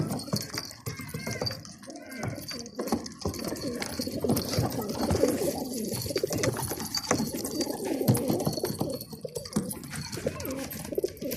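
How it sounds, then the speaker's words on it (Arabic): Baghdadi pigeons coo on a rooftop in low, repeated throaty rolls that run throughout, close by, with some soft rustling and light movement mixed in. "شو رايكم يا شباب الحمام؟ اعطوني بصراحة هالبغداد"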